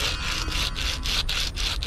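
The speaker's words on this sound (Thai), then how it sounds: "เราจะใช้กระดาษทรายเนี่ยขูดเอาร่องตรงนูนตรงนี้ออกไป" Sandpaper rubbing back and forth over the raised edge of a homemade metal jig fishing lure, a steady close scraping in short repeated strokes with no talk.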